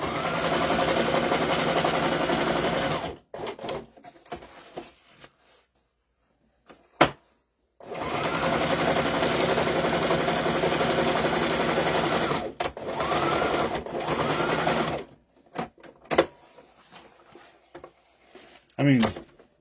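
An industrial sewing machine runs in long steady bursts of rapid stitching, stopping and restarting several times, with brief clunks in the pauses.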